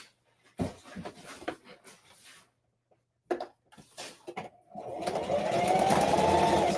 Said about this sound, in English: I'm gonna sew it down basically here.